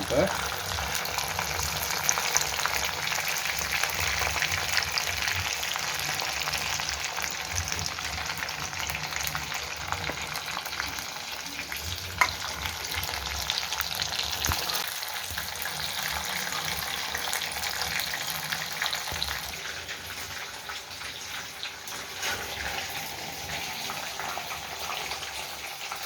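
Paneer cubes fry in a pan for chilli paneer, giving a steady, close hiss of sizzling oil that runs unbroken throughout, with a brief spoken word near the start.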